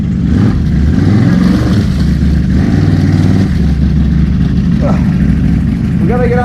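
A 2018 Can-Am Renegade XMR 1000R ATV stuck in a deep mud hole, its engine droning loud and close with rising and falling revs while people talk over it.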